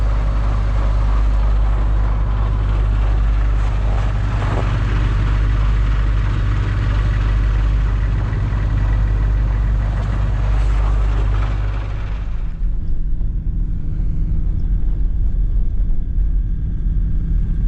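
A car engine drones steadily while driving on the road toward Batagay, a loud continuous hum that drops to a lower rumble near the end, with no talk.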